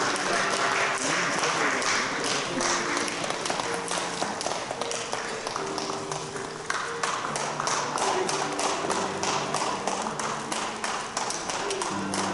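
Steady, full applause from a gathered crowd at a pastor's retirement ceremony as flowers are presented, dense clapping with light taps and thuds running without a break for the whole stretch, music faintly underneath.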